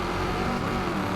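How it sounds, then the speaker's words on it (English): Rocket car engine in the racing game Wreckfest 2, a dense, loud, continuous roaring drone held steady with no talk. "I love the sound of the rocket as well."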